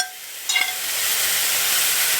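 Crispy zucchini frying in a hot pan, a quiet start that jumps into loud, steady sizzling and hissing oil with a brief clatter of stirring as it begins.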